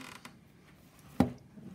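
A folding camping shovel being tightened, with faint creaks and small mechanical clicks followed by one sharp, close snap or clunk near the end, heard alone without talking.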